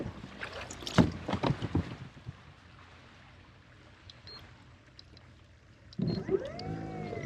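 A Bixpy J-2 electric outboard motor on a Hobie Revolution kayak out on the water: soft splashing and hull knocks, then near the end a close, rising and falling electric whine as the motor spins up.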